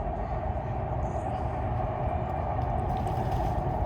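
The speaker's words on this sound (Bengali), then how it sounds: "এটা হলো পদ্মা সেতুর রেলের শব্দ।" A train runs on the Padma Bridge rail line close by, a steady low rumble and drone carrying through the whole stretch with no clear breaks, heard outdoors near a pond.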